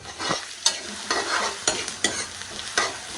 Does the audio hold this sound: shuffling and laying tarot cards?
no